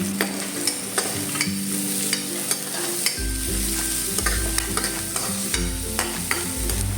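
Onion and chicken liver fry in a pan, a steady close sizzle with regular sharp clicks of a utensil stirring, with a deeper hiss swelling partway through.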